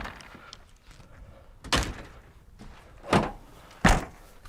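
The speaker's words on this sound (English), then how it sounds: "The cover latches automatically as I close it." A Leer HF350M hard folding truck bed cover shuts with three solid thunks, one near two seconds and a pair close together near the end, each a sharp latching knock heard alone against quiet background.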